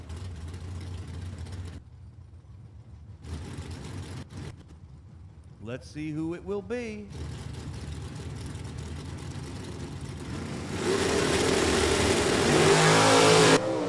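At an NHRA drag race at Cecil County, a Corvette and another automatic drag car idle and rumble, then one engine briefly revs in a rising and falling whine before both cars launch into a loud, sustained roar, with an announcer talking throughout.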